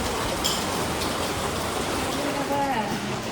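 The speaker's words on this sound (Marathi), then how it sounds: "पण पाऊस भारी पडतोय." Heavy rain falls steadily outdoors, a dense, continuous broadband hiss that stays loud and even for the whole few seconds with no pauses.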